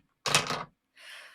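Dice clatter across a wooden table in one short, bright rattle, then a softer trailing roll that fades out, heard close and alone in a quiet room.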